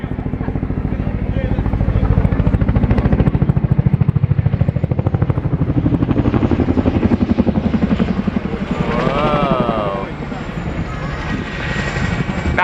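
A Chinook twin-rotor helicopter flying an air display turn, its heavy rhythmic rotor thumping and engine roar loud and close throughout, with an announcer talking over it.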